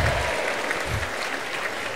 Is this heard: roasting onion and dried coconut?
no